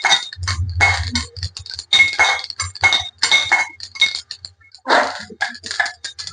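Ingredients for laddoo, including sesame seeds, are stirred and dry-roasted in a pan with a spoon, giving rapid, steady metallic clinks and scraping close up, repeating in quick bursts throughout with no talking.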